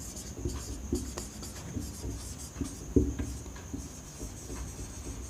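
Chalk or marker writing on a classroom board during a maths lesson, faint scratchy strokes and light taps over a soft room hum, close but quiet with no talking.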